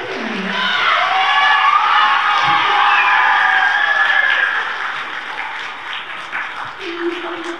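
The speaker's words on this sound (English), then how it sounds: "great big round of applause for our Virtue of the Month" Sustained applause and cheering from a school assembly crowd, loud and steady for about five seconds before tapering off, with scattered voices and some faint talking near the end.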